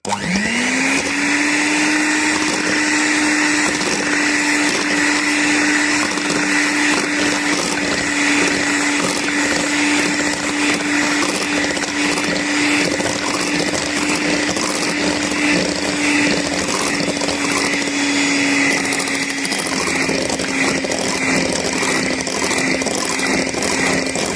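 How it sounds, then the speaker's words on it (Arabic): Electric hand mixer whipping half a cup of chantilly cream for chilled kunafa, a steady high motor whine running loud and unbroken for the whole stretch, easing slightly in pitch near the end. "هضرب الكريمة بالمضرب"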